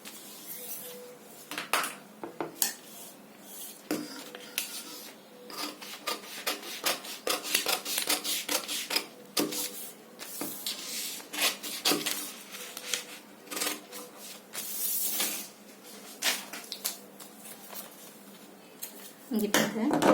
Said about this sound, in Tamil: நான் ஃப்ரண்ட் ஓபன் பண்ணி ஃப்ரண்ட் மட்டும் வெட்டுறேன்